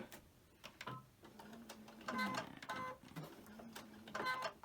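An embroidery machine back stitching on a quilt block runs in short bursts of close, rapid mechanical whirring and clicking, with brief pauses between runs.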